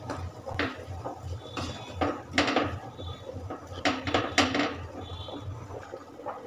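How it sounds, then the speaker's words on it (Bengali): A spoon or spatula scraping and knocking in a pan while a carrot, sugar and cardamom mixture is stirred, with intermittent clinks and scrapes at moderate, close level over a low background hum. "চিনিটা দিয়ে আরও বেশ কিছুক্ষণ নাড়াচাড়া করে নিচ্ছি।"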